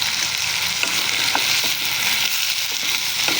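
Eggplant is stir-fried with seasoning mix, pepper and salt in a pan, giving a loud, continuous frying sizzle with faint stirring scrapes throughout.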